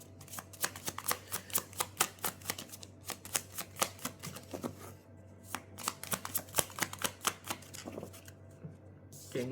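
A deck of tarot cards is shuffled close up in a quiet room, giving quick bursts of crisp riffling and flicking that come in irregular clusters with short pauses between them.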